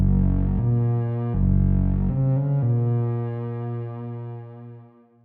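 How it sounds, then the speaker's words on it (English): A Vital synth, Lorn-style, pushed through Trash 2 multiband distortion for an aggressive tone: loud, buzzy sustained notes shift pitch every second or so and fade out at the end, with no voices. "To make the sound aggressive, we're going to add some distortion. So I'm using Trash 2, which is a nice multiband distortion plugin."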